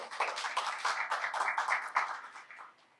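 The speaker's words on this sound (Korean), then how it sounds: "다시 한번 큰 박수 부탁드리겠습니다" An audience claps steadily and fairly loudly for about three seconds at an Incheon social welfare centres' COVID-19 field research presentation, a dense wash of many hands that fades out at the end.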